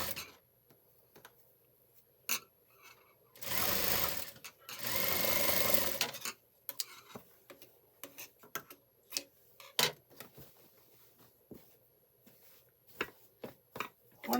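A sewing machine runs in two short bursts while stitching a simple shirt, surrounded by small ticks and clicks from handling the fabric and the machine, with no talking.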